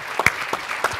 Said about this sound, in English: I have a round of applause for that.